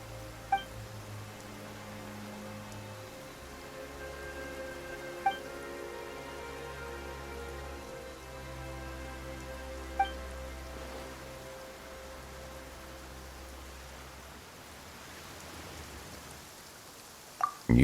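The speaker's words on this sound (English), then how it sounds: "Why is it raining all of a sudden?" Steady rain pours down in a Genshin Impact scene at the Fortress of Meropide, an even wash of drops that stays constant throughout, with a few faint chime-like tones surfacing over it and the downpour thinning near the end.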